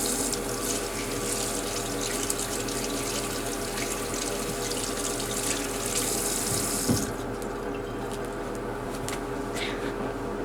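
Hands are washed under a running tap at a home spa night. Water pours steadily and close by for about seven seconds, then continues with a softer, thinner flow.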